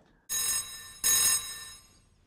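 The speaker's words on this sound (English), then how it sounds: "someone's calling on the picture phone" A picture phone rings with two bright electronic bursts in quick succession, loud and close, heard alone with no talking.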